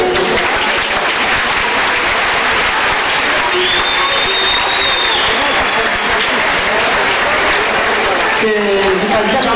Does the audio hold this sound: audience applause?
yes